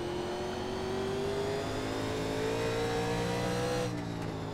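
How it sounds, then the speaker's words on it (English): A 1987 NASCAR Legends race car in iRacing at North Wilkesboro, its engine droning steadily up close and shifting pitch as the car spins on corner entry, with no talk. "now I'm just going to spin on entry"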